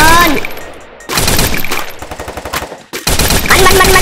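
Bursts of automatic gunfire in the shooter game Free Fire, loud and close, coming in several rapid volleys separated by brief gaps.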